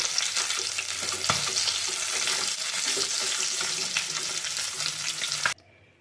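Pieces of aar fish sizzle and crackle steadily in hot oil for a Bengali fish curry, a dense close frying hiss that stops abruptly near the end.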